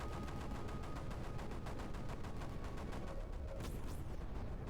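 Mortar turrets in Creeper World 4 fire in a dense, rapid barrage of booming shots, a continuous loud volley of gunfire-like blasts with a brief whistling sweep near the end.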